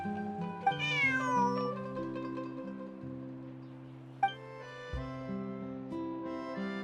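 In a video game, a cat meows twice in bright, rising cries over a soft, steady music backing, the second meow shorter, with no voices.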